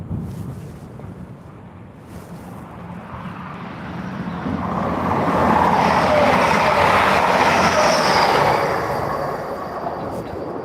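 A TransPennine passenger train passes through Doncaster station, a broad rushing roar swelling to a loud peak and easing off, with wind buffeting the microphone.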